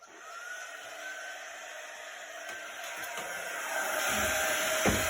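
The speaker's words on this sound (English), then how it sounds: "So I'm gonna get our quick dry tool." A quick-dry heat tool used for Chalk Couture crafting blows air with a steady, close electric whir, growing slightly louder toward the end, with a light knock or two.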